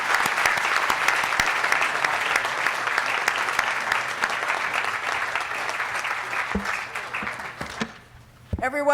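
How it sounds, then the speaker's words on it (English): Loud, sustained applause from a large audience for BC Premier David Eby at an economic address in Surrey, dense clapping that fades out near the end before a brief voice. "Everyone, a round of applause for Premier Eby"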